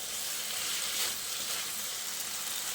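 Spice paste with chopped coriander and eggplant is stirred in a hot pan for a fish curry, giving a continuous, even sizzle that stays close and steady throughout.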